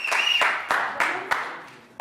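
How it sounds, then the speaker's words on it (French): A French TV news show's audience gives scattered applause: several separate sharp claps at uneven intervals, fairly close, over a faint tonal background. No talk is evident. "on applaudit très très fort"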